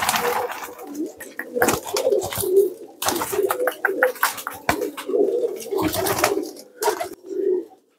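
Several caged pigeons coo steadily in soft, throaty murmurs, overlapping, with occasional flutters and bumps nearby.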